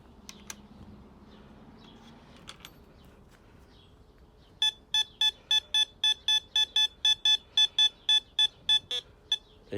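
A Eurotek metal detector sounds a loud, high-pitched target tone as a rapid series of about fifteen evenly spaced electronic beeps, coming in after a few seconds of quiet background handling.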